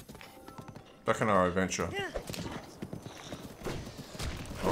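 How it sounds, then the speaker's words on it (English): Horse hooves clip-clop across the ground in the video game Breath of the Wild, paired with a neigh. Someone talks over the steady rhythmic footfalls. "Good work, horse."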